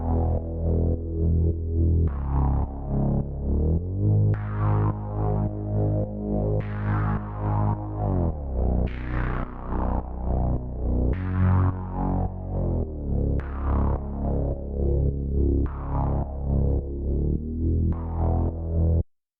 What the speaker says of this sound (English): Now let's move on to the bass, which has some pretty amazing effects.